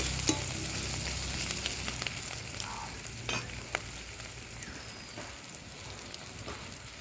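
Spice paste of salt, turmeric and mixed spices frying in a pan over a wood-fired stove, a steady close sizzle with small crackles and the odd scrape of stirring, no voices.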